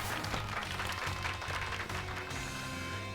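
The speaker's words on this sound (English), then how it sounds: "Give Pikachu a round of applause, everyone." Applause and cheering from a crowd in Pokémon Violet, a steady wash of clapping that holds throughout, fairly loud with a tonal game soundtrack running underneath.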